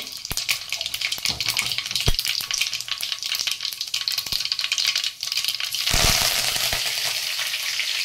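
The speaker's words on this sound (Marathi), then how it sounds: "तर आता मी मोहरी घातली, जिरं," Mustard seeds and cumin sizzle and crackle in hot oil for a vada pav spice fry, with a dense frying hiss, sharp seed pops and a few stirring scrapes that swell louder toward the end.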